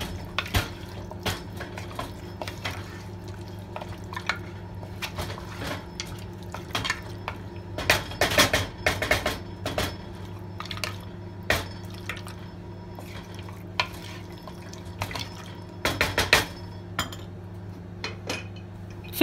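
Mutton coated in meat masala is stirred and roasted in a pan, with a spoon scraping and clinking against the metal in scattered bursts over a steady low sizzle and hum.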